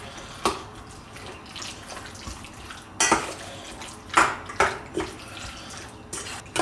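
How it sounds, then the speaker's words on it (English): Chicken being mixed by hand with marinade and ground bean sauce in a bowl, wet squelching and sloshing with several sharper knocks against the bowl, close and intermittent. "Now we just gotta mix this up."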